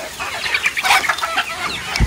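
Chickens cluck up close while eating from feed set out in a village poultry yard, a busy overlapping mix of short clucks and calls with no talking.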